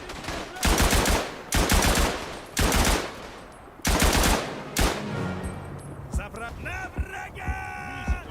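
Machine gun fire in the World War I shooter Battlefield 1 on the eastern front at Tannenberg: several long, loud automatic bursts with brief gaps, then scattered distant shots and whistling game effects, with talk heard over it.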